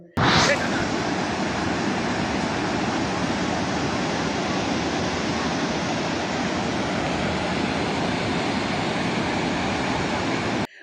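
Flash floodwater rushing down from mountains into settlements in Nepal, a loud, continuous, dense roar of churning torrent from start to finish with no let-up.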